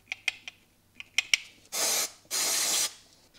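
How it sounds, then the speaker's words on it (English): Cleaner sprayed into the carburetors of an abandoned 1990 Kawasaki ZXR-750 being cleaned of green sludge: a few faint clicks of the can, then two loud, steady hissing bursts of spray, each about half a second long, heard alone. "Spray everything out, make sure there's no blocked holes or anything"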